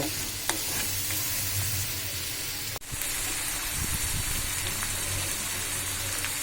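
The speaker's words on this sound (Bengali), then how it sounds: "ধনিয়া গুঁড়ো হাফ চা চামচের মধ্যে দিলাম এবার এইগুলোকে ভালোভাবে নাড়িয়ে দিব" Beef with coriander powder fries in a pan, a close, steady hissing sizzle under repeated scraping strokes of a spatula, with one sharp knock partway through.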